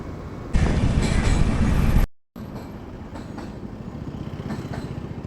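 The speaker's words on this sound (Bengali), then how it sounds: "লাল ট্রেন যাচ্ছে, লাল ট্রেন" A red express train rushes past on a rail line beside a road with a loud, close roar, heard from a moving motorbike, briefly cut off and then continuing as a fainter rumble.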